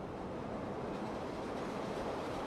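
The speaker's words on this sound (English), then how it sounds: "we hear the sound of a subway train passing by" A subway train passes unseen near a restaurant in The Godfather, a steady mid-level rumble of rolling rail noise that fills the whole brief moment without voices.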